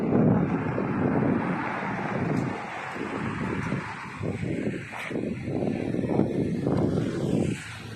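Steady wind gusting and buffeting close by, a broad rushing roar that swells and eases without any talk.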